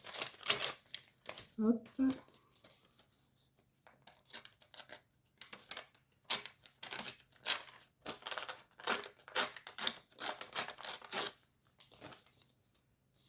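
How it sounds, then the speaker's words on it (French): Paper from a bouquet wrapping being torn by hand for a collage page, a brief ripping burst early on, followed by scattered rustling and handling noises amid intermittent French speech. "Ça, je vais le déchirer aussi."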